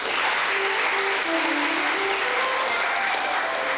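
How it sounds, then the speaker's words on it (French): A congregation claps for the choir in a Catholic parish church in Delmas, Haiti, filling the room with loud, dense, sustained applause while faint singing or voices carry underneath. "Veuillez vous applaudir, s'il vous plaît."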